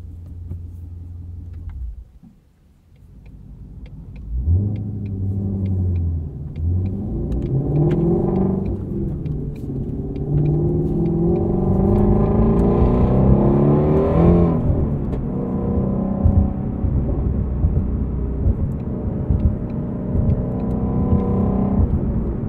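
A 2020 Ford Mustang Shelby GT350R V8 engine and exhaust dip to a low idle, then rev up through rising gear pulls with a loud, throaty growl, heard from inside the car while driving.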